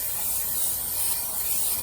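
Cooking spray hisses into a small baking dish in one continuous close burst of about two seconds, then cuts off.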